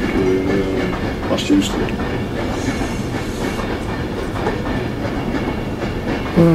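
A Pendolino train passes a power signal box with a steady rumbling roar and rhythmic wheel clatter, while people talk nearby over the noise.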